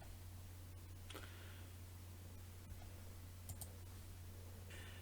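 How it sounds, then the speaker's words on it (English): A few faint computer mouse clicks, isolated and spaced apart, sit over a steady low electrical hum in a quiet room. "Click Add."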